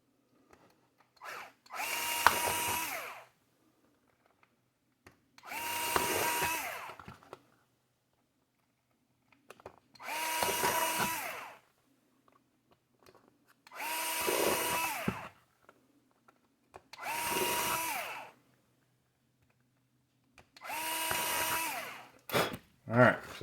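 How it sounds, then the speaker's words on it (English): Small drill bit boring a series of holes through a plastic wing for an RC buggy, six separate bursts of whining drilling, each a couple of seconds long, separated by short quiet pauses, close and alone. "Now we'll just take that little drill bit and go through all of those holes."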